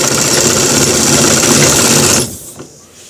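A sewing machine runs steadily at high speed while stitching a shirt collar, then stops abruptly and leaves a short quiet tail.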